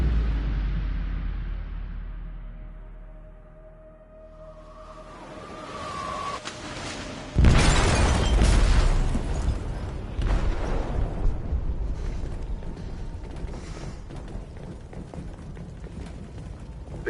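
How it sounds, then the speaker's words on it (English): A heavy explosion tears through a ship's hold in Detroit: Become Human, a sudden loud booming blast followed by a long rumbling, crackling aftermath of debris and rushing noise after a quieter tense build-up. "They detonated an explosive in the hold."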